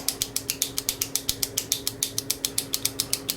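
Switches on an NAD 2200PE amplifier being worked back and forth after a cleaning spray, producing a rapid, steady run of about twenty close, crisp ratchet-like clicks with no voices.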